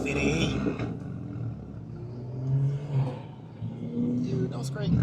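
Car engine with a single turbo and a belt motor revving, rising and falling through several throttle pulls with a deep rumble, while people talk over it.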